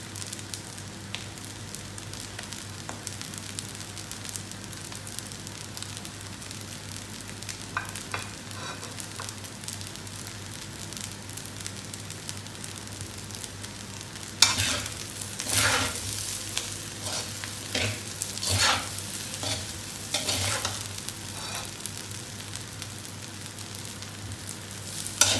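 Fried rice stir-fried in a pan with green onion leaves gives a steady close sizzle throughout, with a run of louder scraping and tossing strokes in the second half.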